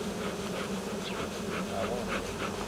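A honeybee swarm resting on the ground gives a dense, continuous buzzing hum of many bees close by, steady throughout with no voices.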